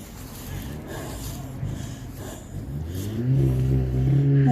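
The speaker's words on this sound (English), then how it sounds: "There are trucks over here." Truck engines idling and revving nearby outside Burlington High School, a low rumbling drone that swells louder toward the end, with faint voices in the background.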